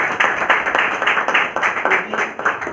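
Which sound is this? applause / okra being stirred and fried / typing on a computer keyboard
applause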